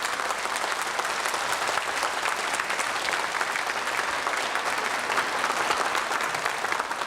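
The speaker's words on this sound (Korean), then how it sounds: "저 반가운 인사를 좀 박수로 나누셔야 되겠는데요" An audience at a 1983 KBS broadcast event applauds, a dense, steady round of clapping that stays loud and even for the whole stretch, with no talk over it.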